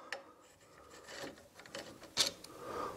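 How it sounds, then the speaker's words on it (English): Small screws being undone on the controller of a Drive Devilbiss Cobra mobility scooter, giving faint scraping, rasping tool-on-metal sounds with a sharper click near the end, close by and quiet. "Now I'm going to undo these two screws and have a look inside and show you inside the controller."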